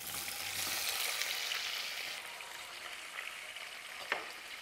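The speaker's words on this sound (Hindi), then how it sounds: "स्लो फ्लेम पर हम इस पनीर को भून लेंगे अच्छा लाल होने तक।" Cubes of paneer fry in a spoonful of hot oil in a pan over a low flame, giving a soft, steady sizzle with a faint crackle near the end and no talk.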